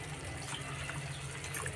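Water is poured into a pot of ivy gourd masala with kokum, a soft steady gush of liquid heard faintly and continuously on its own.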